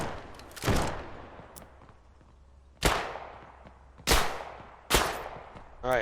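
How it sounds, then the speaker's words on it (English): Bandits fire guns at the player in the video game Western Rye: five loud, sharp shots spread unevenly, each cracking and then trailing off in a long echoing decay, with stretches of quiet between them. "They are shooting at me."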